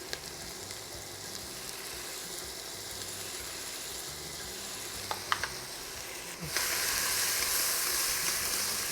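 Pimento and garlic sizzle steadily in a hot pan, cooked for saltfish rice with split peas. A few clinks come near the end, then the frying grows louder and brighter.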